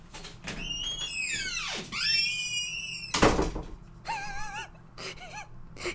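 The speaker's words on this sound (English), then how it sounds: "Heard the squeaky ass door" A squeaky house door swings open or shut with a long, rising and bending creak, followed by a thump and a couple of shorter wavering squeaks, fairly close and heard alone.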